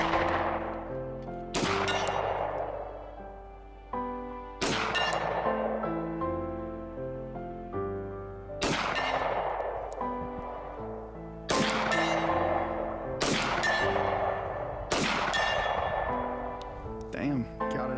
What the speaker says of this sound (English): we started seeing if we could hit targets we had set up for rifles with the Wilson Combat Beretta at 80 to 100 yards